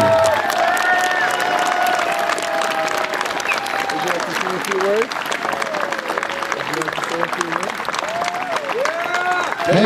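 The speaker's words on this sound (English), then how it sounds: "Please give a round of applause for Clarabelle Hunter Doubtly." A crowd at a salute-to-warriors event applauds and cheers for an honoree who was one of the original Rosies, a loud, continuous roar of clapping mixed with cheering and whoops that persists for about ten seconds.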